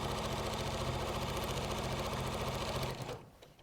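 A sewing machine stitches a straight seam in cushion fabric, a fast, even mechanical whir running steadily for about three seconds before it slows and stops.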